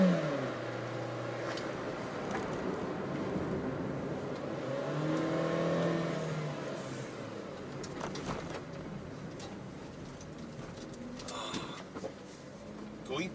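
2022 Proton Saga sedan accelerating on a road, a steady engine drone rising in pitch as it pulls, heard from inside the cabin with someone talking over it and some birds in the background.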